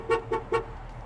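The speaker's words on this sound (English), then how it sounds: "Horn," Horn of a 1973 Ford Mustang convertible giving three short, evenly spaced honks in quick succession, loud and close, with no voices.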